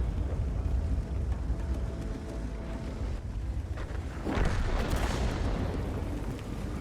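A deep, booming tank cannon shot in a tank video game rolls out over a low rumbling background, followed by a heavy blast and trailing roar midway through.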